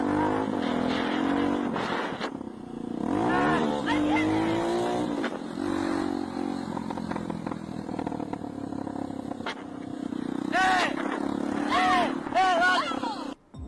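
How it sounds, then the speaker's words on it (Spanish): A motorcycle engine on a street revs and rises in pitch amid traffic noise, partly buried under excited overlapping voices shouting nearby. "¡La moto!"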